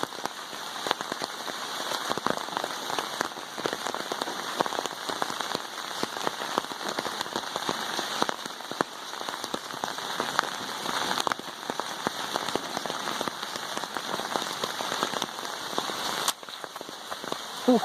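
Heavy rain pours steadily at a flooded campsite, a dense, continuous hiss of drops drumming on surfaces for the whole stretch, close and loud with no talking.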